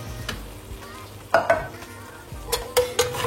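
Fish curry with coconut milk stirred in a pan over lowered heat, a soft scraping stir with light sizzling underneath and a few sharper utensil taps against the pan, heard close with no talk.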